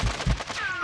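Rapid video game gunfire in quick repeated bursts, loud and close, with no talk over it.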